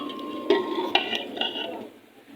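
Lentil curry being served from a cooking pot into a dish, with a few sharp metallic clinks and scrapes of utensil against the pot, close by, then fading to quiet.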